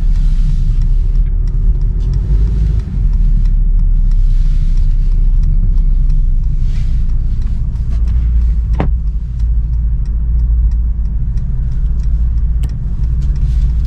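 A car rolls slowly past parked supercars at a car meet, its engine a steady, close, low rumble that holds throughout with slight swells, and no clear talk over it.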